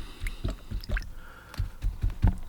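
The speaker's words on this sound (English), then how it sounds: "I'll rinse off my brush really well" A paintbrush used with water-mixable oil paints is swished and squeezed in a jar of water, giving close, wet squishing and sloshing bursts in an uneven rhythm with no talking.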